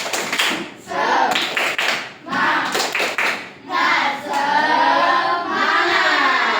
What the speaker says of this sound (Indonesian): Kayak tepuk semangat dulu deh